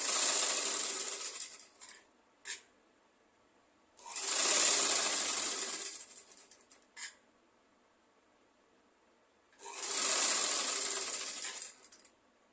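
A sewing machine stitches a chemise-style garment in three long, loud whirring runs separated by quiet pauses and a few brief mechanical clicks, with no voices.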